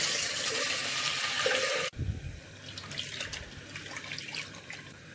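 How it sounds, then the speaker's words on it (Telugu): Running water splashes steadily for a couple of seconds, then gives way to quieter sloshing and swishing as toor dal and chana dal are rinsed by hand in a pressure cooker. "వాటర్ వేసి బాగా వాష్ చేసుకోవాలి."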